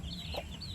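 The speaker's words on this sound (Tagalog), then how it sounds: "Ito mayroon din manok." Chickens cluck on a small farm, short soft calls close by over a steady background murmur.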